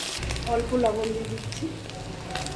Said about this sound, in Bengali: প্রথমে তেল দিয়ে সাদা তেল দিয়ে ডিমটাকে ভেজে দিচ্ছি